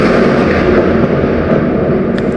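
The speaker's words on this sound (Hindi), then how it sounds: "वक्त के साथ साथ उस तारे की ऊर्जा कम होने लगी, जिसके कारण उसके अंदर एक विशाल विस्फोट हुआ।" A loud, rumbling explosion sound effect depicting a star exploding in space, a sustained deep roar that fills the whole two seconds and eases only slightly toward the end.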